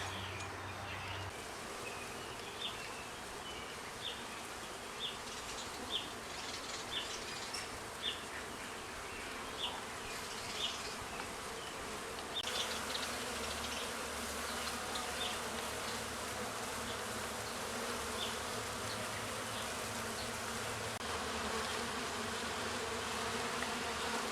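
Dense, steady buzzing of many honey bees close by at a hive, with occasional louder buzzes as individuals pass, growing fuller partway through.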